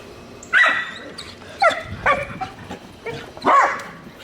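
Dogs kept in a small puppy pen bark and whimper in short, sharp bursts, four or five loud yaps spaced across a few seconds, with quieter whines between them and no talking.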